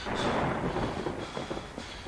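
In the horror game Kraven Manor, a heavy thunder rumble rolls close and loud over steady falling rain, then eases into softer rain patter.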